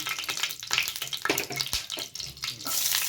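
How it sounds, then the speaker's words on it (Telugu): Bay leaf and stone flower sizzle in hot oil in a pan on a stove, a steady crackling fry with bursts of spattering, close and continuous. "స్టవ్ పై ప్యాన్ పెట్టుకొని ఆయిల్ వేసుకోవాలి ఇందులోకి బిర్యానీ ఆకు స్టోన్ ఫ్లవర్"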